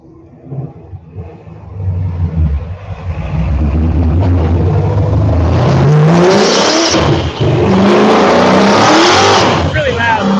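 A Dodge Omni GLH Turbo revving hard on a chassis dyno, the engine note climbing and growing loud with rising whine and turbo hiss, while people talk over it.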